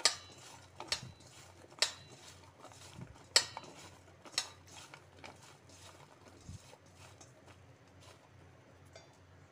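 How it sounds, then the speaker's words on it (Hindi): Sliced okra being mixed with salt in a bowl, with a utensil clinking and tapping against the bowl in sparse, irregular knocks, fairly quiet and close, with no voices. "इसे अच्छी तरह से मिला लेंगे हम, जिससे कि नमक भिंडी में अच्छी तरह से अब्जॉर्ब हो जाए।"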